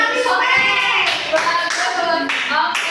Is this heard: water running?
no